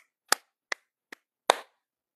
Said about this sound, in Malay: Dia tepuk tangan